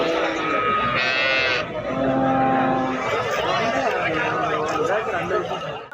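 Cattle and Kangayam bulls low and moo at the Anthiyur livestock market, with one long nasal call standing out amid dense crowd chatter and several people talking nearby.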